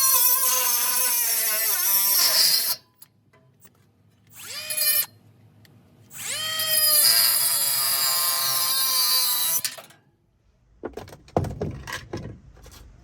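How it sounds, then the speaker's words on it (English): Power tool grinding metal while a condenser fan motor is replaced: loud, harsh bursts in several long runs separated by brief pauses, close to the microphone, then a few clattering knocks near the end, with no talking. "We're going to go ahead and grind it off."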